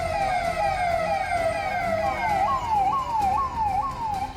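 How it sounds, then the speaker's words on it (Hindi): Police siren wailing loud and close during a police march led by an anti-riot vehicle in Damoh, a long falling tone giving way to rapid repeating rising-falling yelps over traffic rumble. "साथ में गूंजता सायरन"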